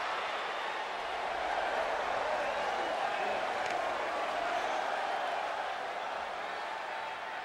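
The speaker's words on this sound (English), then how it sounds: "it sounds to me like the crowd is more than ready for this one" Arena crowd noise before a wrestling match, a continuous dense roar of cheering and murmur filling the space at steady loudness, with faint whoops scattered through.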